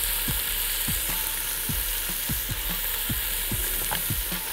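Chicken fajita pasta ingredients with onion frying in oil, a loud constant sizzle with a regular series of stirring knocks and scrapes roughly every half second.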